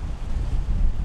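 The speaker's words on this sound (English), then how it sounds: "We've got enough wind" Strong wind buffets the deck of a sailing catamaran at sea, a loud continuous rush with low rumbling gusts and no voices.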